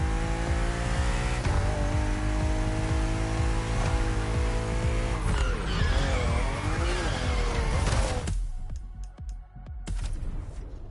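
BMW M race cars compete in The Crew Motorfest on a narrow road with sharp bends, their engines roaring loudly and continuously while tires squeal through the corners, then dropping suddenly near the end before picking up again.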